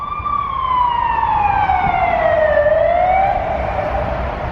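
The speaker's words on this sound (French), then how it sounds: "Alors là c'est les sirènes de la police, je crois." Loud police siren in Brussels, a close wailing tone sliding down and then rising again over steady traffic rumble.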